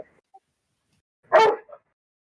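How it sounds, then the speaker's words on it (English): A puppy gives one short, sharp bark after near silence, followed by a faint, brief yip. "Oh, I hear a puppy."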